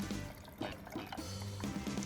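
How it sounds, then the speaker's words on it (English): Cucumber water juice pours into a glass dressed with cucumber and a lemon slice, a short liquid splash and trickle with brief gurgling bursts, close and moderately loud. "And then you just pour your juice in."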